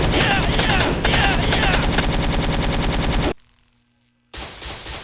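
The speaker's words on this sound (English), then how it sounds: "Our last historical gun in the game is the MG34." An MG34 machine gun from a Wolfenstein video game firing rapid, loud automatic bursts, a sustained rattling stream that cuts off abruptly, a second of near silence, then another burst.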